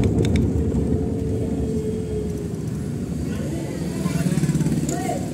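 A Mahindra Scorpio rolls downhill on its own over a rough, potholed road, giving a steady low rumble of tyres and body noise while someone talks over it throughout.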